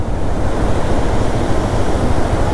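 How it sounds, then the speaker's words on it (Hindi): Waterfall beside a dangerous cliffside mountain road between Kishtwar and Killar, a loud, constant roar of rushing water blended with wind buffeting the microphone. "ओहो हो, क्या बढ़िया वाटरफॉल है यार"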